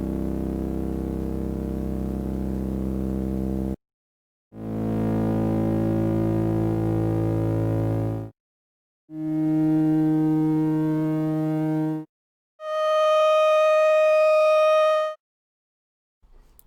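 Four long sustained Korg synthesizer notes played back from cassette, each held for several seconds with short silences between them, the later ones brighter and higher in tone.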